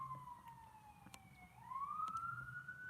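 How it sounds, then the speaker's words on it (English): A siren wails outside, its pitch sweeping down then climbing back up as it passes at moderate distance, steady and continuous with faint traffic rumble underneath. "Oh, sirens."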